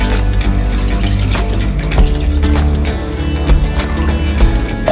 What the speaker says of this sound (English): we're gonna add, let me make sure, 12 ounces of milk